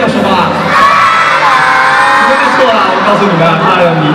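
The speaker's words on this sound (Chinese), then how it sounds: "朋友们，再次把温暖的掌声送给我们的五金家族们" An audience at an orca show at Chimelong Spaceship cheers, whoops and shouts loudly, and children's voices stand out in a dense, continuous crowd roar. An announcer's voice may carry over the crowd.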